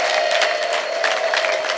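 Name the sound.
congregation applauding and cheering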